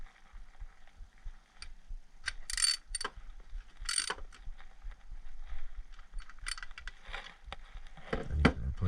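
Small metal parts click and ratchet as a Stevens 320 12-gauge pump shotgun is tightened during reassembly, a scattered series of close, sharp clicks and taps with a few brighter metallic bursts.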